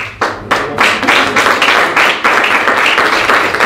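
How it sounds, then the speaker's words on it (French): An audience applauds at a local community event in d'Autray, Quebec, a loud, dense wash of many hands clapping that swells in waves and continues without a break. "on peut prendre le temps d'applaudir"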